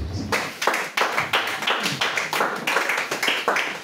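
Rhythmic group clapping from a church congregation at a worship service, steady and fairly close, with even beats repeating about three times a second.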